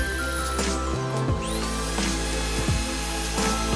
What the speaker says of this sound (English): This is just drilling the holes for the trims.